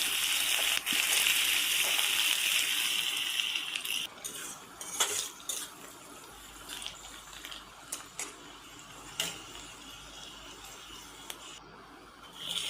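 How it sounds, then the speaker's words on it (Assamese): Onions and green chillies frying in hot oil give a loud, steady sizzle for the first few seconds, then fade into scattered utensil clinks and stirring scrapes in a home kitchen. No one speaks. "তেলটো গৰম হওঁতে মই কাটি ৰখা পিঁয়াজখিনি দি দিলোঁ আৰু লগতে জলকীয়া 2টা দিছোঁ"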